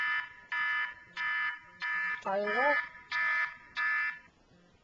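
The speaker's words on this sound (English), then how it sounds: "This will basically beep on forever until you either press the home button" An iPod Touch finger security app alarm beeps in a steady repeating pattern of short tones, close and clear, while a voice briefly speaks over it partway through.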